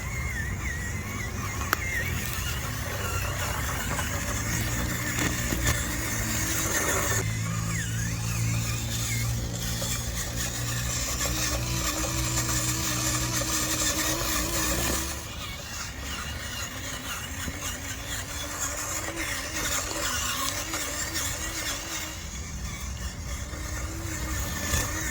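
Small electric motor of a cheap 1/18 scale Absima CR18 Pro rock crawler van at full throttle outdoors, a faint continuous whine that varies slightly in pitch, with no talking.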